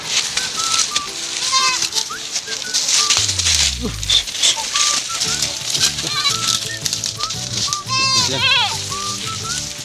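Goats bleat repeatedly, several close and loud, overlapping one another while a person talks and traffic hums in the background.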